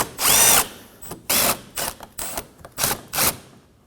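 A power tool or ratchet spins out 10mm bolts under the front of a 2014-2020 Acura MDX in about six close, loud bursts, each under a second, with short pauses between them.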